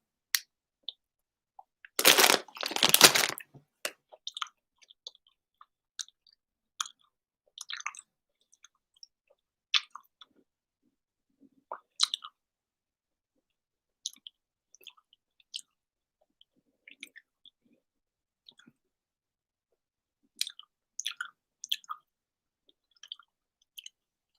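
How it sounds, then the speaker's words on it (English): Wine gums chewed close to the mic during a live stream: a loud burst of chewing early on, then scattered soft, wet chewing and mouth clicks in an otherwise quiet room, with no talking. "Someone chewing on stream must be the worst"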